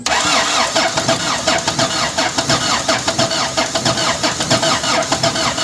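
An Isuzu 4BA1 diesel engine in a jeep cranks and fires up, then settles into a loud, rough, rhythmic idle with steady knocking pulses close at hand.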